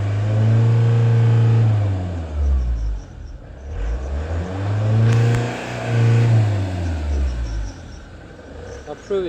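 A 2004 Ford Transit 2.4 Duratorq diesel van engine with a fuel pump fault revs up and down in repeated surges, the revs not staying up, rising and falling in pitch, with a voice talking over parts of it.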